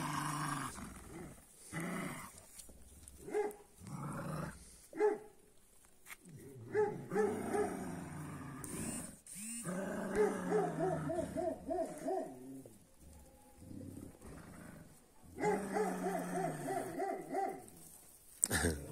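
A dog barking outdoors on a winter evening, a series of bursts in irregular clusters, some harsh and some more howling, close and fairly loud with gaps of quiet between.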